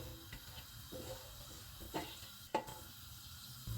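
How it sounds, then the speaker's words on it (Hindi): Cloves, green and black cardamom and cinnamon sizzle in hot oil with a faint, steady crackle, broken by a few soft stirring clinks and pops. "इसमें लौंग, सब्ज़ इलायची, बड़ी इलायची और दालचीनी डालेंगे। इनको 30 सेकंड तक फ्राई करेंगे।"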